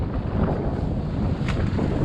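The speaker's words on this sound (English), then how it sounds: "Let's try and protect this mic from the wind." Wind roars and buffets against a microphone aboard a fishing boat at sea, a loud continuous rumble with faint rustling on top and no speech.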